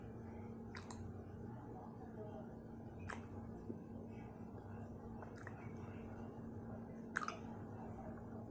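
Close, quiet chewing of light, crunchy cornstarch chunks, with a few soft crunches spaced several seconds apart over a faint steady hum.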